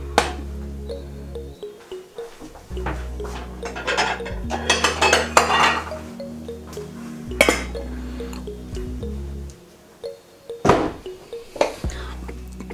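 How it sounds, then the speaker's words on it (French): A small saucepan clinks and knocks against other kitchenware as water is run and poured into it, with scattered sharp metallic taps and a brief liquid trickle amid quiet pauses. "une petite casserole avec de l'eau"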